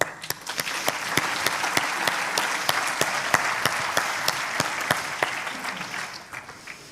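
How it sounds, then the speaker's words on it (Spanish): A conference audience gives warm applause as a speaker from Kantar Worldpanel is welcomed, steady, fairly soft clapping with a few sharp individual claps standing out, fading near the end. "Por favor, recibamos con un caluroso aplauso a César."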